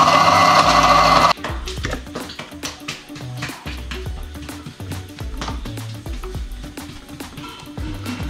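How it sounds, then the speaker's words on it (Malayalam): An electric mixer grinder grinds roasted coconut and onion without water for Malabar chicken curry, giving a loud opening whir followed by choppy, rattling grinding pulses that run steadily throughout. "ഇനി നമ്മൾ വറുത്ത് വെച്ച തേങ്ങയും ഉള്ളിയെല്ലാം കൂടെ നമുക്ക് മിക്സിയിൽ വന്നിട്ട്"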